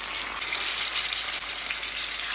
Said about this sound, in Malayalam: മാരിനേറ്റ് ചെയ്ത് വെച്ചാൽ ചിക്കൻ ഇല്ലേ അത് ഒന്ന് ഫ്രൈ ചെയ്തെടുക്കണം